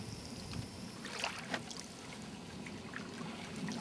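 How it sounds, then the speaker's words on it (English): A canoe glides forward through deep swamp water, making faint paddle splashes and soft trickling drips at a gentle, uneven pace over quiet outdoor ambience, with no voices. "I move the canoe forward and pass by the second dock"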